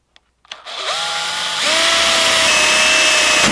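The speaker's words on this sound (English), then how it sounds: "That's where I'm going to drill this 1/4 inch hole." A power drill bores a 1/4 inch hole into a fishing rod handle. After a couple of clicks, the motor whirs up and holds a loud, steady high whine close by.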